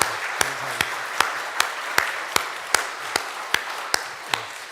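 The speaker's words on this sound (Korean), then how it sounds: "우리 격려로 환영하는 박수 한번 참 좋겠습니다." Steady rhythmic clapping from a church congregation during a Sunday service, about twelve evenly spaced claps over a soft background murmur, moderately loud and close.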